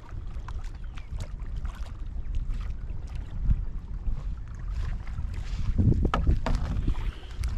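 A man paddles a canoe on open water: steady splashing paddle strokes and water movement close by, with wind buffeting the microphone and a couple of louder splashes toward the end.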